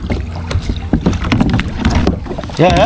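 Kayak paddling on the lake at Tapola, with uneven splashes and water sloshing close by under wind buffeting the microphone, as a voice talks nearby.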